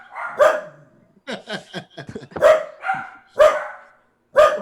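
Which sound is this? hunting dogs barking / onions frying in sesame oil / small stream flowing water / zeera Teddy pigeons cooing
hunting dogs barking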